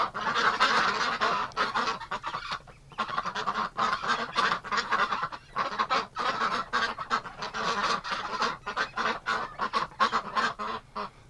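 A flock of ducks quacks and honks continuously in a winter pen, a dense, busy chorus of overlapping calls close by with no talking.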